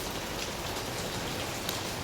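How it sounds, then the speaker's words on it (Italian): Heavy rain pours outside a cafe in Istanbul, a dense, steady hiss of drops hitting surfaces that stays constant throughout with no voices. "fuori piove a dirotto"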